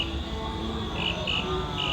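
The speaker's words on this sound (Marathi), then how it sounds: "बेडूक आहे." Frogs croak repeatedly in a steady outdoor chorus, a few calls standing out over a constant wet background hum.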